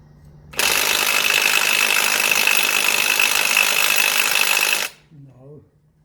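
A power tool loosens a multi-point 36 mm nut on a VW group 1.4 TSI engine, running as one loud, steady burst of about four seconds, followed by faint voices.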